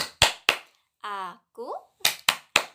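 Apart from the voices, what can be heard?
children clapping in rhythm for a clapping song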